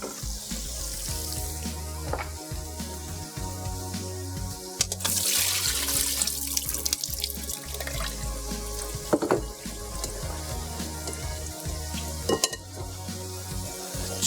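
Potato slices lifted out of a bowl of water, with wet splashing and dripping sounds and clinks of a utensil over a steady background hum in a kitchen, close and moderately loud.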